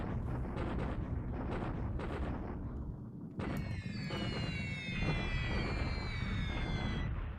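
Bombs explode in the World War II naval air combat game War in the Pacific, a dense, rumbling barrage followed by a sharp burst and layered falling whistles, loud and continuous throughout.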